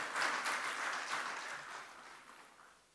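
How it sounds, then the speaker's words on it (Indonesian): An audience applauds Indonesian President Joko Widodo, a broad, even wash of clapping from a large crowd that slowly fades away, somewhat distant and soft. "Tepuk tangan untuk beliau."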